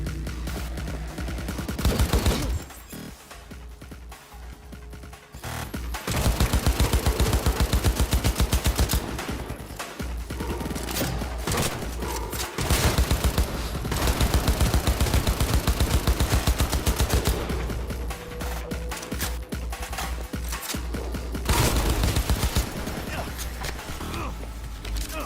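A gun firing in the video game Cyberpunk 2077, long stretches of fast automatic bursts broken by short pauses, loud and dominant with occasional talk in between.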